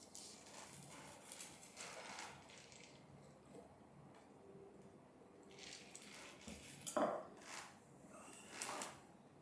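Rhythmic hoofbeats of several horses clip-clopping at a quick pace in the racing video game Gallop Racer 2003, moderately loud with a steady background hum and a few sharper knocks.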